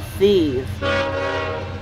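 A BNSF-led grain train rolls eastbound through Fostoria, Ohio on the CSX Willard subdivision. A brief rising tone gives way to a steady, loud horn blast over a rumbling train, with a voice speaking briefly near the start.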